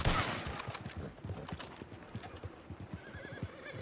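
Rapid hoofbeats of a galloping horse in Red Dead Redemption 2 Online with a brief whinny, accompanied by busy game sound effects and a faint background hum.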